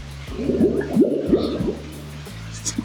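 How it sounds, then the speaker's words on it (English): Water bubbling and gurgling in a man-made water feature on Lanzarote, a brief run of wet pops and glugs close by, then settling into quieter trickling. "Why is it bubbling?"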